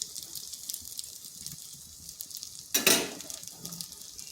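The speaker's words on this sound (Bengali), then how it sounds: "এইভাবে খুন্তির সাহায্যে ভালো করে চারপাশটাই সমান করে দিচ্ছি।" Cabbage with tomato and green chilli fries in a pan, giving a steady soft sizzle with light scraping as a spatula spreads it around, and a brief louder burst of hissing partway through.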